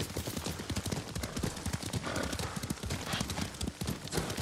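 Horse hooves clip-clop in a steady, brisk rhythm as a rider travels through Ghost of Tsushima, close and continuous with a dense backdrop of game ambience.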